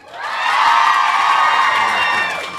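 A convention panel audience cheers and whoops in one sustained swell that rises quickly, holds loud and bright, then tapers off near the end.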